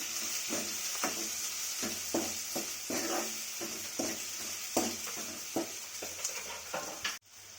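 A single onion frying in a pan until it turns brown, with a steady sizzle running throughout, broken by repeated stirring scrapes at a loose rhythm and a sharp knock near the end.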